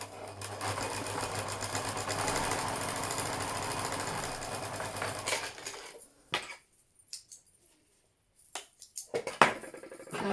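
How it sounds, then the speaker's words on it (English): Sewing machine running steadily while stitching the curved edge of a fabric face mask liner, a continuous close mechanical whir for about six seconds, then stopping into quiet handling clicks and brief fabric rustles. "Taking our liner and we're going to sew along that curved edge there."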